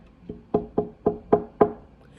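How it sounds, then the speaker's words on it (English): A quiet knock at a front door: five or six soft, evenly spaced raps close by, with no voices. "At that moment, Miss Cream heard a quiet little knock at the front door."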